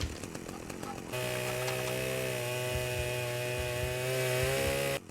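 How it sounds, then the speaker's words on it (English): Chainsaw in the PlayStation 2 game Manhunt, a steady loud droning engine buzz with a sustained tonal whine running continuously for several seconds, entering abruptly after a noisier opening and cutting off at the end. "Cash takes on the remaining Cerberus with the newly acquired chainsaw"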